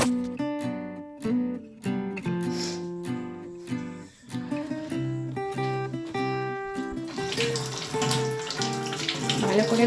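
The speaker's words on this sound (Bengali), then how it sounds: "ভালো করে ঘষে ঘষে ধুয়ে নিচ্ছি," Vegetables being scrubbed under a running kitchen tap while making pav bhaji, the rushing water growing louder and fuller toward the end beneath steady background music.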